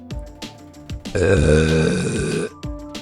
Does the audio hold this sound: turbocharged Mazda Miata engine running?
no